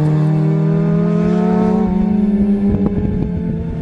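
A 1981 TWR Mazda RX7 race car with a rotary engine revs loudly and close by, its buzzing tone climbing steadily, then breaking into rough, crackling bursts as it pulls away.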